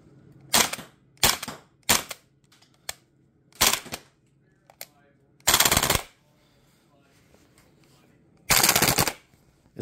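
A VFC UMP 45 airsoft gun running on HPA fires a series of loud, close, rapid bursts, short cracking volleys separated by pauses, with a couple of longer strings.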